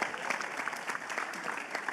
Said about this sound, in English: Can I get a round of applause for Aestus?